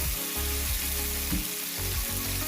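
Onions hit a pot of lamb stew and sizzle steadily, a close, continuous frying hiss with faint stirring underneath and no voices.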